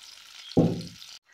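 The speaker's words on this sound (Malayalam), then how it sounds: "അതിനുശേഷം ഈ ഇറച്ചി കപ്പയിലേക്ക് ചേർത്ത് കൊടുക്കുക. ഇതൊന്ന് കുറച്ചൊന്ന് മിക്സ് ചെയ്തിട്ട് നമുക്ക് ബാക്കി ചേർക്കാം." Cooked meat being stirred into tapioca in a pan for a kappa biriyani, one short, close scraping stir over a faint background sizzle.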